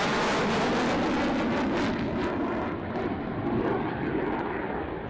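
Indian Su-27 fighter jets fly an air show display at the Air Tattoo in 2007. A loud, continuous jet engine roar fills the air, easing slightly toward the end.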